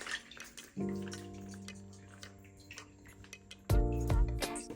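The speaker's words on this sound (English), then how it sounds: "cut a hole into the tofu package and just drain it out" Water trickles and splashes as it drains from a cut hole in a tofu package, sounding faint with uneven gurgles and a louder pour near the end, with light kitchen clatter and no talk.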